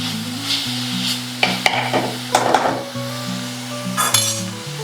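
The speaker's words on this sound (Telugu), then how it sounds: "ఇవన్నీ ఫ్రై చేసుకుందాం." Spring onions and other ingredients fry in a pan for a crispy prawn dish, a steady sizzle broken by sharp clinks and scrapes of a utensil against the metal, near and fairly loud, under a continuous background tone.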